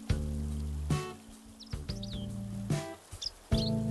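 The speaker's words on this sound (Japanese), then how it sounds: "ほぼ夜なのに、小鳥のさえずりが聞こえるという不自然な状態になっている" Small birds chirp faintly at night in Animal Crossing: New Horizons, with a few quick tweets in brief clusters over a steady, melodic game soundtrack.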